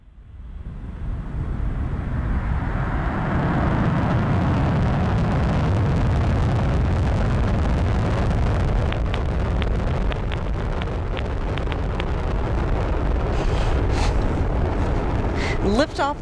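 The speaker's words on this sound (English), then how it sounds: "Lift off the Atlas V rocket and twin spacecraft" An Atlas V rocket lifts off carrying twin Radiation Belt Storm Probes spacecraft through clouds, with a loud, sustained, deep roar that rises in the first seconds and rumbles on steadily, broken by crackling bursts near the end.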